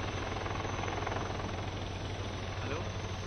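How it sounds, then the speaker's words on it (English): A light combat helicopter (LCH) comes in to land at an air display, its steady, loud rotor and turbine roar filling the whole stretch without pause. "the light combat helicopter is coming in for landing in front of you."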